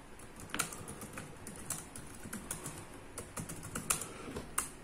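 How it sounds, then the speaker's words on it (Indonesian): Someone types on the keyboard of an Asus X200 netbook, producing a steady stream of light, close key clicks with a few sharper taps. Nobody speaks. "Nah, dan ngetik di sini itu enak ya"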